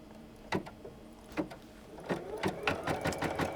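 Embroidery machine stitching crazy quilt fabric, close-up mechanical clatter of needle strikes in uneven bursts that quicken toward the end, with no talking.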